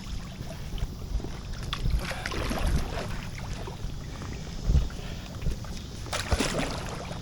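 A single paddle splashes and dips into water at an irregular rhythm as a small boat is moved along, over soft wind and water noise.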